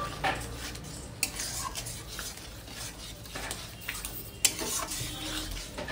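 Egg keema curry being gently stirred in a pan after a coriander-cumin paste goes in, with soft scraping and clinks of a spoon against the metal, a faint sizzle underneath and a sharper knock near the end.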